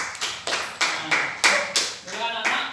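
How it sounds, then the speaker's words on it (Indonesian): Schoolchildren in a year-five classroom clap for a classmate in a loose, rhythmic series of about ten distinct claps in unison, close and fairly loud, with slight ringing after several beats. "tepuk tangan dulu untuk Nacil ya"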